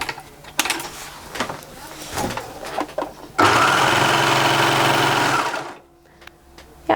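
A Babylock Imagine overlocker sewing machine starts up after some handling clicks and runs a steady, loud, fast buzzing whir of stitches for about two and a half seconds before stopping.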